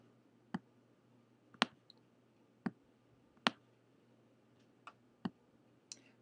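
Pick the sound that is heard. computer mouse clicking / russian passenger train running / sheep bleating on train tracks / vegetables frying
computer mouse clicking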